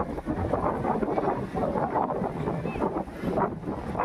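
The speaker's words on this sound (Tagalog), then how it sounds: "Oh, lamig ng hangin." Cool sea breeze along a seaside boulevard lined with coconut trees, blowing steadily and roaring against the microphone with constant gusty rumble and no pauses.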